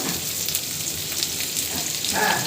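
Sliced onions frying in mustard oil in a pan for vegetable chowmein, giving a steady, dense, close sizzle that holds evenly throughout.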